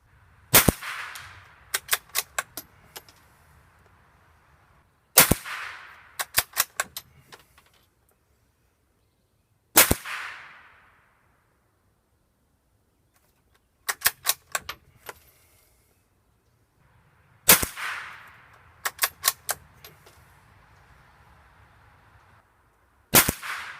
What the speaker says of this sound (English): 2 5-shot groups with both rifles using Winchester Dynapoint